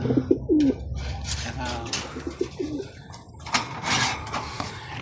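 Racing pigeons coo in a breeder loft, with several low, rolling coos close by, scattered rustles and wing flutters, and someone talking quietly underneath.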